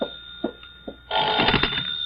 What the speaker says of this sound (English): You'd better answer that phone, hadn't you?